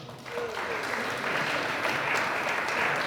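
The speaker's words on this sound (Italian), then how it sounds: "Gli rivolgiamo nuovamente un grande applauso." An audience claps at an anniversary ceremony for AIDO Valdobbiadene, a dense, sustained round of applause from many hands that swells and holds throughout, close and loud.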